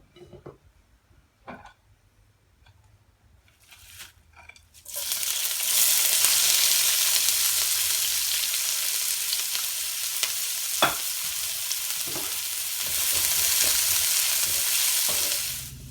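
Onions fry in coconut oil in a pan for kappa mutta biriyani. After a few soft clinks of utensils, a loud, steady hiss of sizzling begins and continues close up, broken now and then by quick stirring scrapes.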